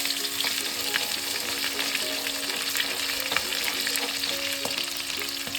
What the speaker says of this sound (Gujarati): સૌપ્રથમ એક કડાઈમાં તેલ નાખવું ત્યારબાદ તેલ ગરમ થતાં જ અંદર રાઈ મેથી નાખવી પછી આદુ લસણની પેસ્ટ નાખવી